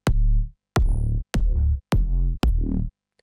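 Five big EDM kick drum samples auditioned one after another in FL Studio, each a sharp transient with a long booming low tail, loud, separated by short gaps and with no talking.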